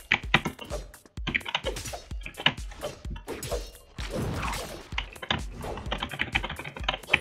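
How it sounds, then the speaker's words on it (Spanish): Rapid typing on a computer keyboard during a Brawlhalla gaming session, with dense, loud, close clicks and clacks in irregular bursts, sometimes heavier key thumps. "Ahí es un teclado. Quita el teclado."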